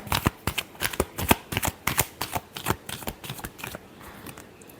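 Tarot cards shuffled by hand in a rapid series of crisp riffling snaps, about a dozen bursts that slow and fade toward the end, close and fairly loud with no voices.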